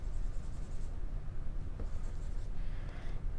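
A pen scratching steadily across a surface during a colour theory lesson, a soft continuous scribbling close by with short pauses.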